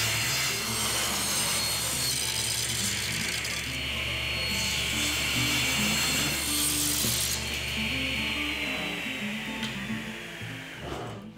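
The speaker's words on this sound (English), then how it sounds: "the first thing I want to do is rip this board to 1¼ by 1¼" A saw rips lengthwise through a bubinga board with sapwood, a continuous close rasping cut that stays steady and loud for about eleven seconds before tapering off.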